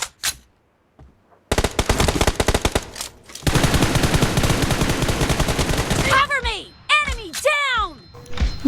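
Rapid automatic gunfire in the mobile battle game PUBG Mobile, M4 rifle: a short burst, then a long sustained volley, followed by loud separate ricochet-like shots, close and loud, with no talk.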